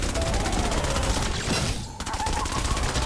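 Candy Corn LMG in Fortnite Save the World firing a rapid, continuous burst of loud machine-gun shots, briefly breaking off before resuming at the same fast rhythm.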